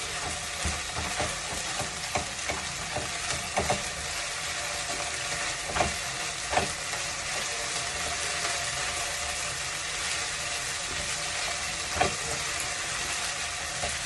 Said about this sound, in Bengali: এটা পেঁয়াজের সঙ্গে ভালো করে এবার ভেজে নেব।